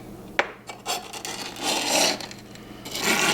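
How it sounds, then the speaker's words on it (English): A knife scrapes seasoned beef jerky meat, giving rough, rasping strokes up close with an uneven rhythm and one sharp tap near the start, and no voices over it. "let's go ahead and scrape off all the meat down into the"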